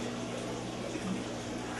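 An aquarium pump pushes water up into a sump, giving a close, steady rushing and gurgling wash of water with a low constant hum underneath.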